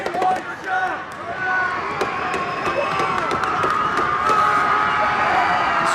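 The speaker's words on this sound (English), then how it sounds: "This crowd comes to life here." A crowd cheering at a girls high school basketball game in a gym, a loud, sustained roar with shoe squeaks and bounces mixed in, while a commentator talks over it.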